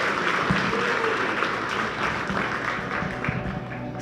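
Conference audience applauding new members at a psychedelic-assisted therapy gathering, a steady wash of many hands clapping at moderate volume throughout, with no voices over it.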